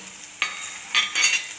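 Green and dried red chillies fry in hot oil, with a low sizzle and three short bursts of stirring or spattering, close by.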